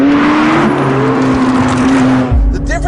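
McLaren 675LT supercar accelerating hard after a shift into second gear, a loud close engine note with a steady rising tone that drops away near the end as the next shift comes.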